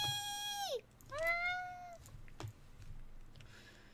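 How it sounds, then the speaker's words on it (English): A cat in the Persona 4 Golden video game meows twice in quick succession, fairly quiet and clear, followed by faint soft ticks and a light background hum. "Kitty!"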